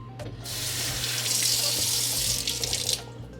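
Tap water runs steadily into a pot at a kitchen sink while a shrimp, steak and sausage boil is being prepared, a close, continuous hiss and splash lasting about three seconds with no talking.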